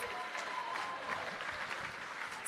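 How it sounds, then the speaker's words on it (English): An audience at a union summit claps steadily, a soft, even wash of applause heard from some distance for a couple of seconds. "Clap it up for yourselves."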